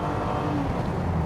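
A 1992 Mercedes-Benz SL engine runs with a steady, moderately loud mechanical drone, heard close and alone for a brief moment.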